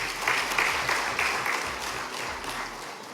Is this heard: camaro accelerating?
no